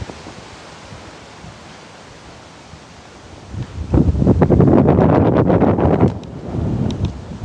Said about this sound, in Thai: ตอนนี้ลมแรงจริง